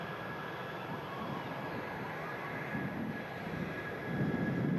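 An Airbus A380 at Manchester Airport, a steady broad engine roar heard from a distance, swelling slightly toward the end, alone.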